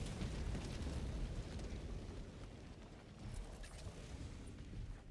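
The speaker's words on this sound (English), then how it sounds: "Hit them with the orbital rail cannon, just to let them know I'm still out there terrorizing them." An orbital rail cannon strike in Helldivers 2 ends in a loud, rumbling blast with a long, roaring, debris-filled tail that swells again midway, with no voices.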